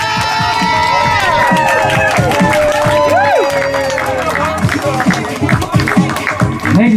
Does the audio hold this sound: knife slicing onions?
no